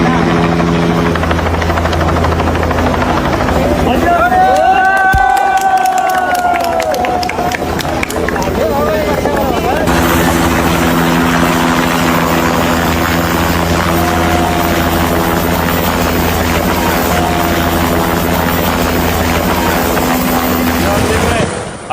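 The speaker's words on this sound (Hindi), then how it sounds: "हेलीकॉप्टर पहुंचा रेस्क्यू के लिए" A rescue helicopter's rotor thumps loudly and continuously overhead during a Nepal flash flood, with a whining turbine rising and falling; voices and crowd noise mix in beneath.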